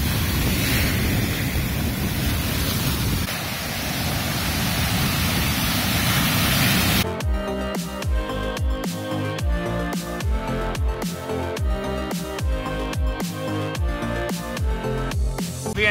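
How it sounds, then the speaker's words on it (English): Ocean waves wash onto a beach at sunset with steady surf roar and wind buffeting the microphone for about seven seconds, then music takes over for the rest. "enjoy the sunset, enjoy the sound of waves"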